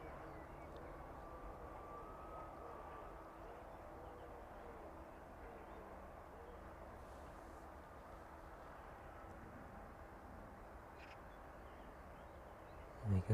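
An airliner turning onto final approach to land on runway 27 at East Midlands Airport gives a faint, steady, distant engine drone that stays even throughout, with a brief louder bump right at the end.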